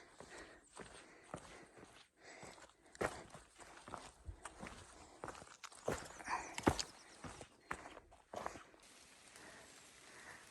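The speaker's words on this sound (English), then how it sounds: "So when I walk, it pretty much sounds like I'm stomping all the time." A hiker stomps flat-footed along a rocky mountain trail on Chairback Mountain, heavy footsteps thudding and scuffing at an uneven pace, close and fairly quiet with gravel crunching between steps.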